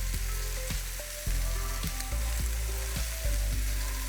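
An egg fries in the middle of a big pot of rice with vegetables, hissing steadily up close while a utensil scrapes and knocks against the pot at regular intervals.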